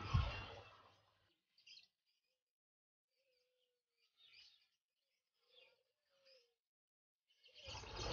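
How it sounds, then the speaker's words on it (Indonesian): Scattered birds at the Satria bird market in Denpasar chirp and tweet faintly in short separate calls, with a quiet pause between bursts of speech at either end. "Dan di sini ada berbagai macam burung teman-teman"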